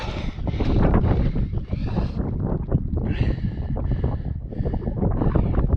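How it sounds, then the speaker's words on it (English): Strong wind gusts buffet the microphone on an exposed mountain saddle along the trail to Cradock Peak, a loud continuous roar with rising and falling surges and no talking. "as you get to this saddle here, the wind picks up"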